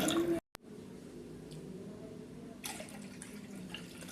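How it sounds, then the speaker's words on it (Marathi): Water pours into a pot of washed toor dal with a wet splashing and gurgling after a brief cut, then a louder rush of liquid toward the end; no speech. "आपण आता यामध्ये पाणी टाकून घेऊ"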